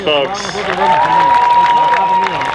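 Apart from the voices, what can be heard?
audience applause at a cosplay contest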